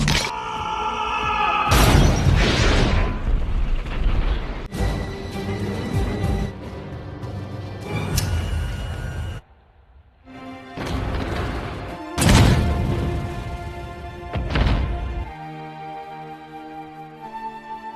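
A grenade blast during a film gunfight: loud booming crashes and shattering bursts repeat through a dense, chaotic battle mix, with a brief lull before more heavy impacts.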